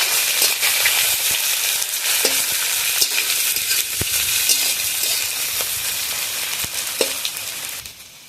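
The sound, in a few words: onion and green chilli frying in a pan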